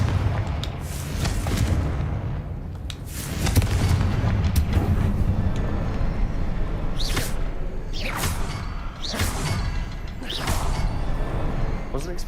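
Confringo spell blasts explode in Hogwarts Legacy, clearing spider webs: several booming bursts and whooshing impacts rise over a continuous low rumble, moderately loud, with talking mixed in.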